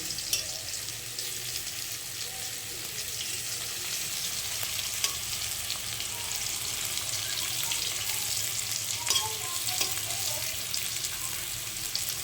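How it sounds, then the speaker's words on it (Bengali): Spices for tempering sizzle in hot oil poured over boiled lentils, a steady, fairly faint hiss and crackle that runs on without a break and with no voices. "এটা একটু ফোড়ন দিয়ে দেবো"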